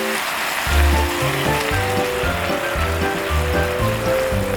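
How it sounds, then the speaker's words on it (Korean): Seasoning sauce hitting a pan of starch-coated tofu frying in oil, giving a steady loud crackling sizzle with bubbling pops throughout, no voices. "한쪽 면이 어느 정도 익었다면 두부를 뒤집어주고 이제 미리 준비해둔 양념장을 부어줍니다"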